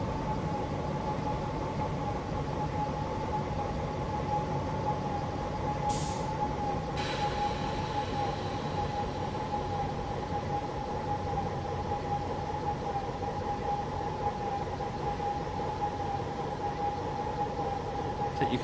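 Steady rumble and hum of a BR648 diesel multiple unit running in Train Simulator on the Hamburg–Lübeck line, a continuous drone with a faint tonal whine and two short sharp noises partway through.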